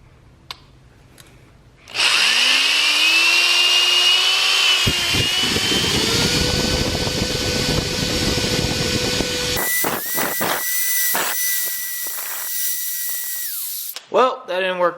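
A power drill bores a hole while a chassis-mounted front splitter is being installed on a car: a loud rising whine that holds steady, then turns choppier in stuttering bursts before stopping.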